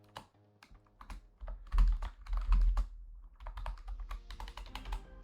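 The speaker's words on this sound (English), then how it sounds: "Man, my typing's really bad." Quick, irregular keystrokes on a computer keyboard, close and crisp, coming in uneven bursts with a few heavier key thumps.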